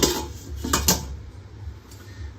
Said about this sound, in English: And here is a pot. This is what I will use to cook the spaghetti.